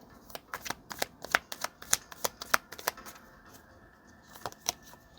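Oracle cards being shuffled in a run of crisp, close riffling snaps, dense for the first three seconds, then a pause and a few final flicks near the end.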